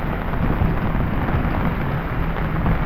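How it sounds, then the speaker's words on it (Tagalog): Heavy rain during a storm, caught on a motorcycle rider's microphone as a dense, constant hiss and rumble of downpour, loud and unbroken. "lakas ng ulan"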